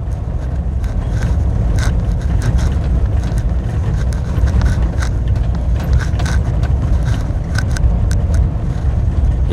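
Mitsubishi Triton Savana pickup with a manual gearbox pulling through a traction test, a steady loud engine and drivetrain drone with tyre and road rumble, constant throughout with faint rattles and scrapes on top.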